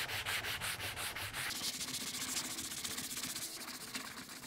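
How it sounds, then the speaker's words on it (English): Sandpaper rubbing across a wooden surface finished in black oak, in quick back-and-forth strokes, a close, steady scratchy rasp with no talking. "some sanding in random areas"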